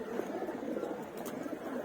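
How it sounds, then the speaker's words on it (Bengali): A pigeon coos softly and continuously at close range in a loft, with faint background murmur and no clear speech. "অসাধারণ একটা কবুতর"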